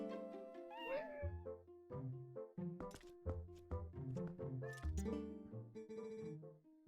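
Game-voiced cat meowing in a Legend of Zelda game, a run of several tonal mews of varying pitch heard clearly over a steady musical soundtrack with bright melodic tones.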